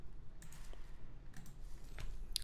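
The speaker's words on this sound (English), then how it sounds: "For example, I want to type here." A computer keyboard gives off a few scattered, faint clicking keystrokes over a low background hum, with no voices.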